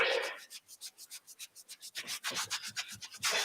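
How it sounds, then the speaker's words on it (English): Hands rub briskly over the lower back in a steady series of soft, rhythmic friction strokes, close and alone, speeding up toward the end. "Just rub in between the lower half of your back"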